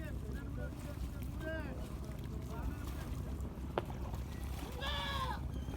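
A goat bleats a few times in short wavering calls, once early and again more loudly near the end, over steady wind and background noise with some talk during washing with soap.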